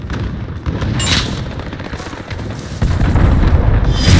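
Cruise missile strike in Modern Warfare Ground War mode: heavy, rumbling booms with low-end blasts, one near the one-second mark and a louder, sustained detonation rolling in toward the end.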